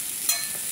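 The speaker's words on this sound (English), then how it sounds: "hear that sizzle. That's my favorite sound." Steady high hiss of French toast sizzling in a hot pan, with a brief stir or scrape partway through.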